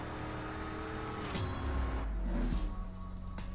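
Car engine in the racing game CSR2 on a second gear launch with wheel spin: a droning, rising rev that swells and shifts pitch, close and fairly loud, with no voices.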